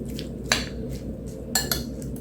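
Cucumber and gelatin broth mixture is spooned into a ring mould, metal spoon clinking against dishes in a few sharp, close taps over a soft low background, with no talking.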